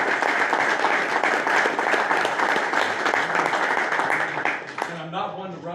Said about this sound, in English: I'd love to give a round of applause